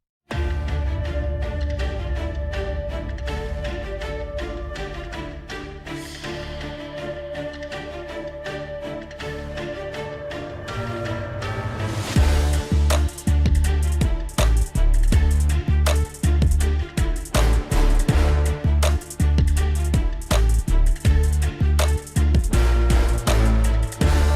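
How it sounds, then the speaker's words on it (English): A hip-hop beat plays loudly, with a sparse intro before heavy bass and punchy drums kick in around the middle and drive steadily to the end. "So when we quick listen to that hip-hop track,"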